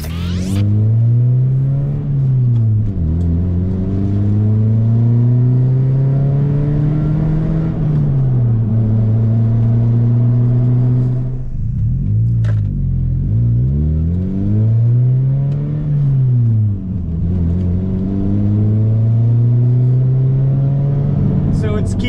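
A car cruises along with a droning engine whose pitch rises and falls in repeated swells as it speeds up and eases off, steady and close from start to finish.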